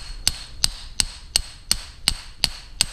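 Eight evenly spaced metallic hammer strikes drive a bushing out of a Crankbrothers Mallet bike pedal, close and crisp, in steady rhythm with no talking.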